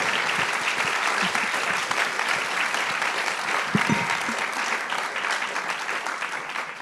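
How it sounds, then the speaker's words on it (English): Sustained applause from a large audience for a panel fills the whole stretch, steady and loud throughout. "Could you please give our panel a round of applause?"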